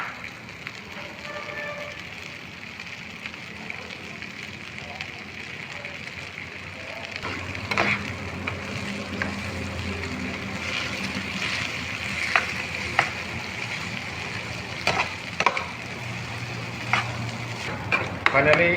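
Bitter gourd (karela) stir-fry with an egg added, frying in a pan over low heat: a steady soft sizzle and crackle throughout, with occasional scraping and stirring clicks from about eight seconds on.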